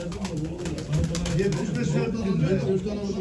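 Pigeons coo in low, soft, repeating phrases at a poultry auction in Ankara, heard close and steady, with someone talking over them.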